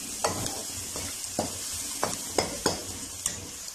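Spices being stirred with turmeric powder and salt in a pan, about seven distinct spoon scrapes at a loose, unhurried rhythm over a faint background sizzle.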